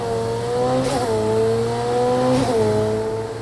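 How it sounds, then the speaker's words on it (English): A McLaren 720S in the racing video game Project Cars 2 holds a loud, steady engine note, broken twice by sharp hissing blow-off valve bursts as the revs drop between gears. "The blow-off valves are pretty rad."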